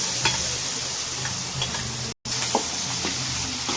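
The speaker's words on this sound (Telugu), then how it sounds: "ఇలా తాలింపులో మనం పచ్చడిని వేసేసుకొని స్టవ్ ఆఫ్ చేసుకోవాలండి." Gongura leaf chutney being stirred into a hot tempering in a pan, a close, steady sizzle with scraping spoon clicks and a brief dropout midway.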